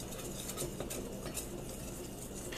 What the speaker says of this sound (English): And now I'm going to whisk.